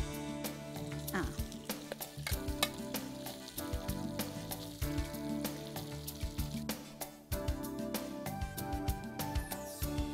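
Mixed beef for a kanthari dish frying in hot coconut oil, a steady close crackling sizzle with sharp pops and occasional stirring scrapes throughout.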